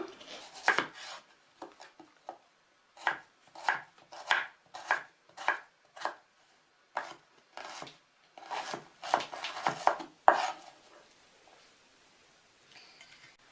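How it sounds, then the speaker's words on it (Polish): A knife dices an onion on a cutting board in bursts of quick, crisp chops separated by pauses, close and clear against a quiet kitchen background. "pokroję w kostkę cebulę"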